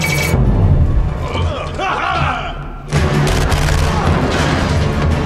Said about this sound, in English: Automatic weapon.